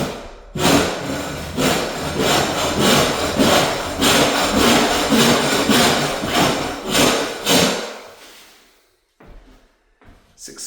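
A dull, bent, rusty angled blade scrapes painted popcorn ceiling in repeated rasping strokes, loud and close, with brief pauses between passes before the scraping fades out near the end.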